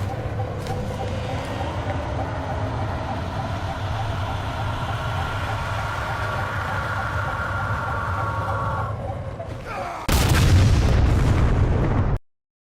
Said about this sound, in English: Chief then manually detonates the portable Havoc nuke that he brought on board to destroy the Composer.